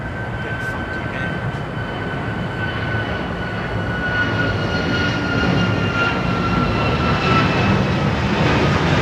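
Air Canada Boeing 767 airliner in new livery at Miami International Airport, a steady broadband jet roar with a thin whine, loud and continuous, swelling slightly toward the end with no talk.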